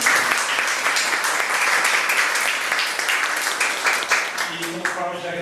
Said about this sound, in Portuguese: Então podemos me dar mais uma salva de palmas.